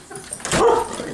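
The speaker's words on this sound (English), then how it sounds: "As long as you guys are here, they're gonna bark." Pet dogs barking at visitors who have come inside the house, one short yip-like bark rising loud and close, with faint whimpering around it.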